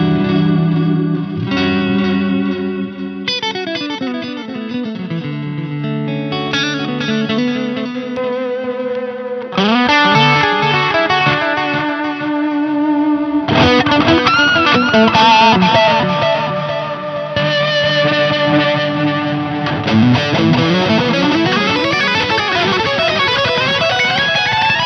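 Electric guitar through a Free The Tone Flight Time delay pedal in an amp's effects loop, with overdriven chords and melodic phrases trailing repeating echoes and reverb, played loud and continuously without speech.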